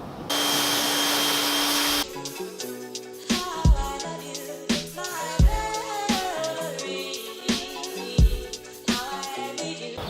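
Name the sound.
power washer rinsing a car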